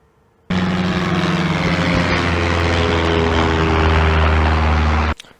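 A fixed-wing airplane flying overhead, heard for comparison with a drone at 40 meters altitude: a steady, loud propeller-engine drone with low harmonic hum that starts abruptly and holds evenly for about five seconds before cutting off.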